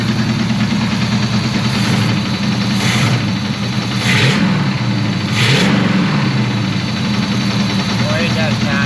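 A rough, uneven engine in a 1984 Chevrolet Monte Carlo race car runs steadily and revs up in a few surges, loud and close, with someone talking over it.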